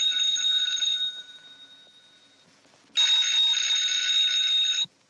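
An old-fashioned telephone bell in a 1944 film rings at night in two long, shrill bursts separated by a quiet gap. It sounds near and loud, with no one talking over it.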